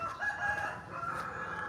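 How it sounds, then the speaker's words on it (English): A rooster crowing somewhere near a walking route to a temple in Kampot, Cambodia: one drawn-out, moderately loud call heard on its own with faint background ambience. "Cock-a-doodle-doo."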